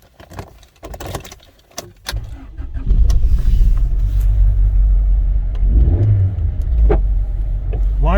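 An older car's engine cranks after the key turns, catching around three seconds in and settling into a steady, loud idle with a brief rev; keys jangle faintly at the start.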